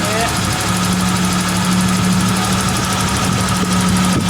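A Suzuki engine idles while warming up after sitting unused for a long time, following valve lash checks and rocker arm shaft bolt replacement; a steady, loud, close hum with a low even drone and constant vibration throughout, no talk.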